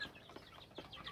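Week-old fluffy native chicks peep on a rooftop in Upper Egypt, a few short high chirps close by over quiet background, no speech.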